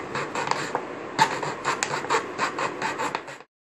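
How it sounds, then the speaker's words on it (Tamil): A knife saws through a plastic water bottle in quick, repeated scratchy strokes, close and crisp, stopping abruptly. "நான் கட் பண்ணுற மாதிரி நீங்களும் கட் பண்ணிக்கோங்க"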